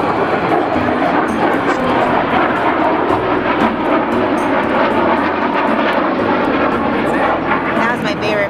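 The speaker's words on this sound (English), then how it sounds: "That was my favorite plane." A fixed-wing airplane roars past overhead, a loud, sustained engine rush that fills the whole stretch, with people talking over it.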